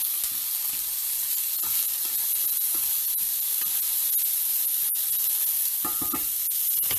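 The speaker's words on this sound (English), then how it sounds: "I'm going to pour all these guys in here, and we are just going to saute this up" Vegetables for cauliflower fried rice sauté in a hot pan, giving a steady, close, loud sizzle with scattered clicks and scrapes of stirring throughout, no voices.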